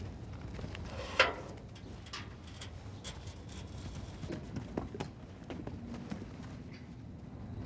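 Hooves thud and clop irregularly on soft ground, fairly close, with one sharper knock early on and a low rustling background throughout.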